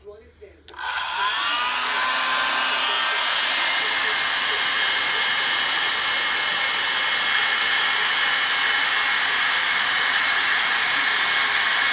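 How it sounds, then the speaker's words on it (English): A hair dryer switches on beside a wood stove to warm a newborn goat kid, then runs as a loud, steady close-up whoosh of blowing air for the rest of the clip, with no talk over it. "I'm gonna warm him up with a hair dryer now."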